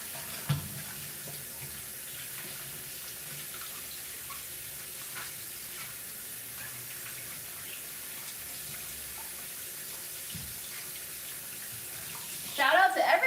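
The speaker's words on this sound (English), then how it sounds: "I'm just washing my apples here." Tap water runs steadily into a sink while apples are washed, a constant soft hiss with faint handling knocks and a brief louder splash near the end.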